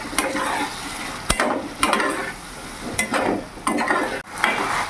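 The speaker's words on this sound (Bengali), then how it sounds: "এবার ভালো করে আমি মিশিয়ে নেবো।" Fried rice with soy sauce being stirred in a hot pan, a steady sizzle broken by several sharp scrapes and clinks of the spatula against the metal at irregular intervals, close and fairly loud.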